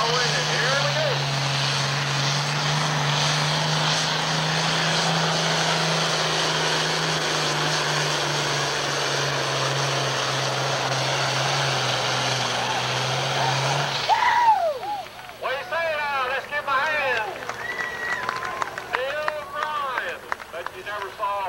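A John Deere 30-20 tractor roars loud and steady at a 1988 tractor pull in Laurel, Delaware, its engine note holding for about fourteen seconds before dropping off into quieter rumble and crowd noise.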